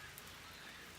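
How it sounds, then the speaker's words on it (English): Steady rain falls outside during a farm window-repair job, a soft continuous hiss with faint patter, low and even throughout with no talk over it. "It's raining right now"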